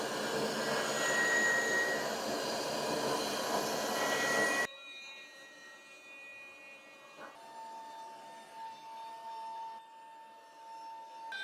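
A Shapeoko 5 Pro CNC router cutting a chamfer toolpath with a 90-degree V bit on an address sign, a loud whining spindle with cutting noise that drops abruptly to a quieter, thinner hum partway through.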